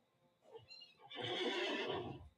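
A horse gives one loud, drawn-out whinny in the game The Lord of the Rings Online, close and clear, with a softer snort and faint movement just before.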